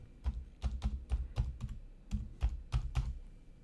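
Keys clatter on a computer keyboard as a password is typed in, a close, clear run of about a dozen quick taps in short bursts with a brief pause midway, no voices.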